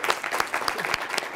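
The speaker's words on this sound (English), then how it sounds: "I think this is a good time for applause." Brief audience applause after a keynote talk, a steady patter of many hands clapping at moderate loudness with no voices over it.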